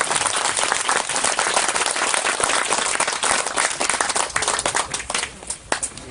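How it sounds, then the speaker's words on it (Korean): A church congregation gives loud, sustained applause at a combined youth festival worship service, dense clapping that fills the room and tapers off near the end. "우리 중고등부 아이들과 또 지도했던 선생님들에게 격려의 박수 한번 부탁드립니다."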